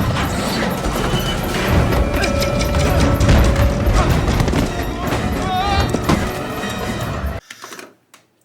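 Small plastic parts of a 1/48 scale M1A2 Abrams model tank spill and clatter onto the ground in a dense, loud, continuous rattle lasting several seconds, ending in a few scattered ticks and quiet.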